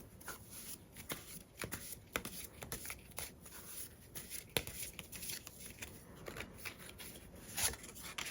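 Tarot cards being shuffled by hand, a steady run of soft papery riffles and flicks at close range with no talking.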